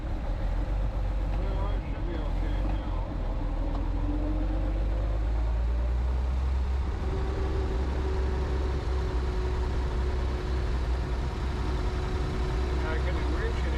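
A 1914 Packard 4-48 Six engine runs rough and drops a cylinder from low fuel pressure, a loud, steady, uneven idle rumble heard up close while people talk over it.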